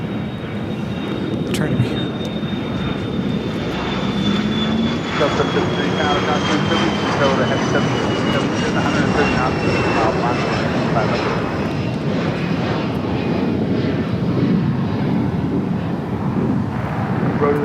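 A Dreamliner jet airliner at LAX roars with a loud, sustained engine whine and rumble as it moves toward a south-side takeoff, people talking over the noise throughout.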